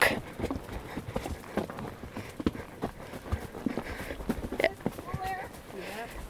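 Horse hooves clip-clop along a beach trail at a steady walking rhythm, close and moderately loud, while a rider talks over them with brief rustling in between.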